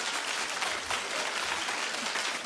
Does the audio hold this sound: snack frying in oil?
no